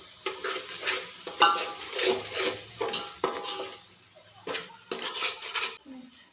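Salt being stirred into Kolhapuri pav bhaji in a pan, repeated scraping strokes of a spoon against the pan over a faint sizzle, rhythmic and close, with brief talk at the end.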